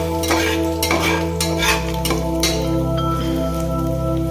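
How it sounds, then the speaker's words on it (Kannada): Chicken masala for a village-style chicken sambar fries in a pan and is stirred with several sharp scraping and clinking strokes over a constant low hum, close by, with no voices. "ಅದು ಹೋಗಲು ಸ್ವಲ್ಪ ಫ್ರೈ ಮಾಡ್ತಾ ಇರಬೇಕು"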